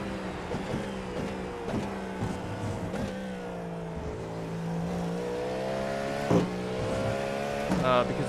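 A Cadillac race car's engine drones steadily at Le Mans in a racing video game, a continuous harmonic hum with small shifts in pitch, heard under people talking.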